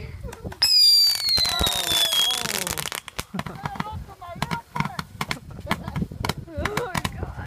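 A 140-shot consumer firework cake fires at a Fourth of July backyard show, starting with a whistling rising shriek, then a rapid run of loud, sharp cracks and bangs in quick succession, with people talking and exclaiming underneath.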